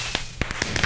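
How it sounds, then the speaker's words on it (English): Firework bangs and crackles go off in a video-game forest, a quick run of sharp pops and bursts in under a second, close and fairly loud. "with the fucking fireworks in the middle of a forest?"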